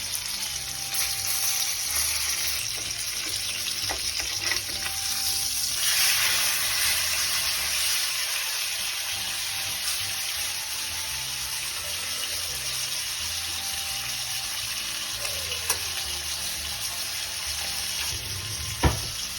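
Orange sauce for a steak dish bubbles and sizzles in a hot pan, a steady, dense hiss that holds at an even level throughout, with no voices.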